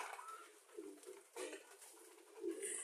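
Soft, low cooing of racing pigeons kept in a cage nearby, several repeated throaty calls rising and falling with brief pauses between them.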